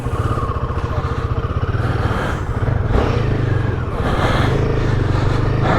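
Royal Enfield Himalayan 450 motorcycle ridden off road, its single-cylinder engine thrumming steadily and pulling up through the revs, loud and close throughout with rough clatter from the terrain.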